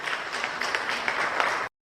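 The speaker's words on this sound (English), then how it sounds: "So please give Vivo Energy a round of applause." An audience at a national corporate social responsibility conference applauds, a dense, even patter of clapping that holds steady and then stops abruptly.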